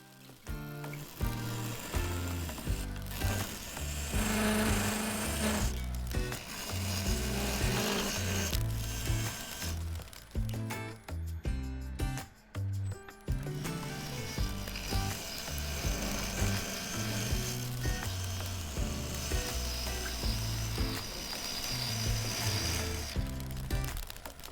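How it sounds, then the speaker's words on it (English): Wood lathe hollowing out a crackle-effect vase: long stretches of loud, rough scraping and rubbing as the tool cuts, broken by short pauses and shifts in tone throughout. "Then I switched to hollowing out."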